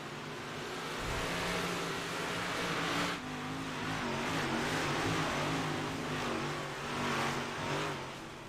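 Super small block modified race cars roar around the dirt oval at Volusia, engines droning loudly and continuously with rising and falling pitch as the pack passes, no talk over the engine noise.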